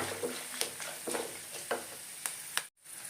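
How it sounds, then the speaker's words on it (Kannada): Curry leaves and dried red chillies sizzling in hot oil for a temple-style puliyogare tempering, a steady crackle with sharp pops and a few stirring clinks, cut by a brief silence near the end. "ಈಗ ಕರ್ಬೇವಿನ ಸೊಪ್ಪು ಹಾಕಿ ಒಣಮೆಣಸಿನ್ಕಾಯಿನ ಹಾಕ್ಕೊಳ್ಳಿ"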